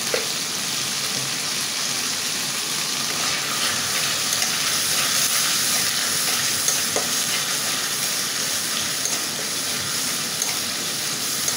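Turmeric, cumin, chili powder and salt fry in a pan for a snakehead fish and spinach curry, giving a steady, close, loud sizzle with faint scrapes of stirring throughout.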